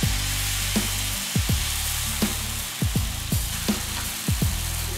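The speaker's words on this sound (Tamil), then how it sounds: "தோசை தவா வச்சுருக்கேன், காஞ்சாச்சு. இதில் ஒரு ஆப்பம் விடுறேன்." Uthappam batter sizzles on a hot dosa tawa, a steady close frying hiss with a few soft clicks and pops from the griddle, no voices.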